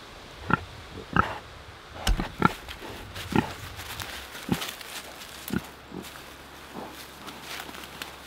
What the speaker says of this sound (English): Let's go see if we can sneak up on the pigs out in the pasture and see what they're up to.